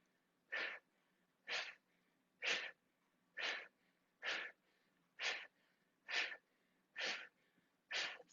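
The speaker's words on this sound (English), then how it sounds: "The belly gets more forceful. It starts to spring in and push that breath out." Nine forceful, evenly timed yoga breath exhalations pushed out through the nose, each a short, breathy whoosh with near-equal loudness, close and alone with no talking.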